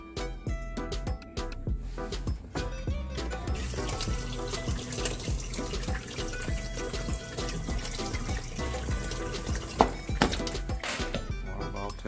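Water runs and splashes steadily into a dishwasher during a water valve test on a unit with a failed control board, close and continuous with small clicks and knocks mixed in, with no talking.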